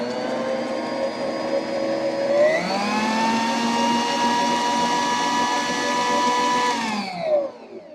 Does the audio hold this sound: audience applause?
no